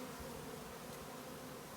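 A captured bee swarm hums around a wooden hive box outdoors, a dense, continuous buzzing drone of many bees at steady loudness with no voices.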